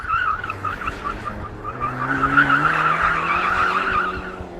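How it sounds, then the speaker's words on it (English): A car spins its tyres to warm them before a drag race: a loud, sustained squeal of rubber over an engine whose revs climb steadily, close and continuous throughout. "Let me just go warm up my tyres."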